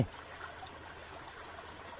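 A stream flows steadily with a soft, even rush of water, faint and continuous, with no voices over it.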